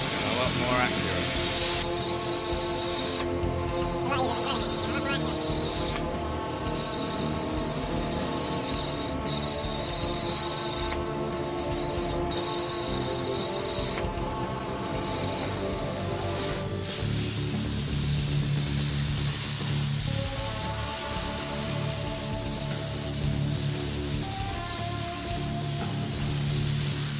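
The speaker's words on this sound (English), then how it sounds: "you'll have seen this plasma cutter in action." Steady hissing spray of a plasma cutter cutting out a metal seat back support for a Ducati Monster cafe racer, loud and continuous with short interruptions, shifting tone near the end.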